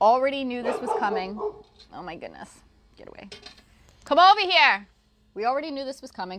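A dog barks at a neighbour in short repeated bursts at close range, mixed in with a person speaking.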